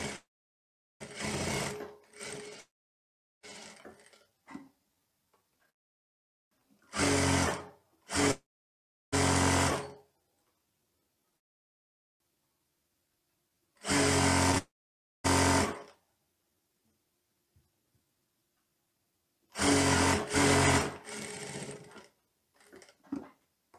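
A sewing machine stitching a teddy coat runs in several short bursts of rapid mechanical whirring, separated by quiet pauses, close up and fairly loud.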